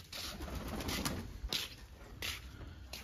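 Pigeons cooing in a rooftop loft, soft low coos repeating under steady background noise, with a few brief rustles that may be wing flaps.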